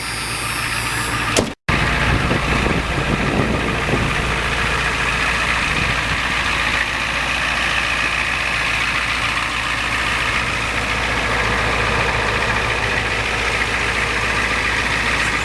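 A 1992 Ford F350 Custom with a Powerstroke turbo diesel idles close by after a brief cut, with a loud, even, continuous clatter and rumble and no talking.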